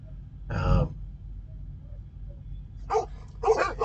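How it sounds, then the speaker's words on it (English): A dog nearby barks once loudly, then two more times a few seconds later. The barks come over a quiet, steady background hum. "Somebody else's dog is barking."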